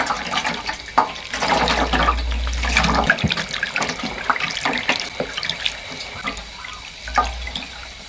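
Tap water runs into a sink as prepared onions are rinsed, a steady splashing gush with bursts and a brief break near the three-second mark, close and without speech.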